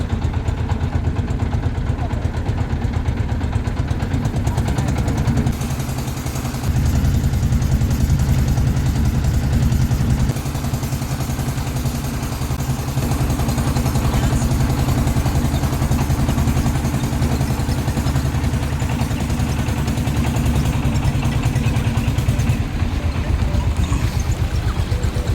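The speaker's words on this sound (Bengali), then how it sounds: "সোজা ট্রলার নিয়ে ঢুকে পড়বো" A trawler boat's engine runs steadily at Dublar Char in the Sundarbans, a close, loud, throbbing low chug with rattling clatter that continues throughout.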